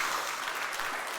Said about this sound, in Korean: 우리 환영의 박수 한번 하시겠습니다.